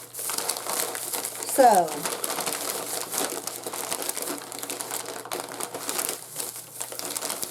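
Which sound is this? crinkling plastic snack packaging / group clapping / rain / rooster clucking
crinkling plastic snack packaging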